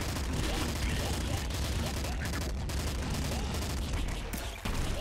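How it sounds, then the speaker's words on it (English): Rapid, continuous gunfire from a poison gun in the video game Nuclear Throne, a dense burst of repeated shots filling the whole stretch with a brief dip near the end. "I want to use my poison gun."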